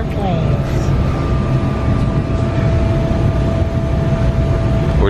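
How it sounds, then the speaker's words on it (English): Aboard a jet airplane taking off, a steady loud engine roar fills the cabin with a constant whining tone running through it and no pauses. "Airplanes."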